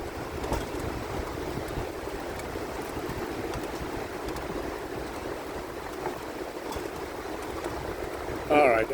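Wind buffets and roars steadily across an open railcar riding over a 90-foot train trestle in Hadley, New York, a constant gusty rush with a brief voice near the end.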